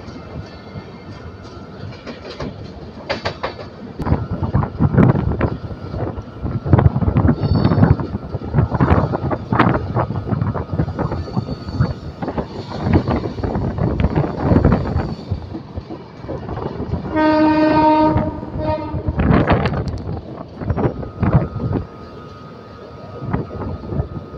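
The Shatabdi Express, train 12025 from Pune, runs past Begumpet toward Secunderabad with a continuous rattling rumble of carriages on the track, and a loud sustained horn blast sounds late in the run.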